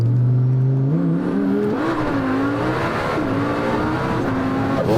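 A powerful sports car, a Bugatti Chiron or Lamborghini Huracan, accelerates hard with a loud, rising engine note that climbs through gear changes, close and continuous.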